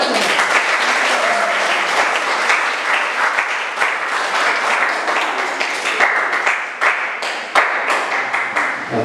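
Sustained applause from a seminar audience at a community psychoeducation session, dense and steady clapping filling the whole stretch with a few sharper individual claps standing out near the end.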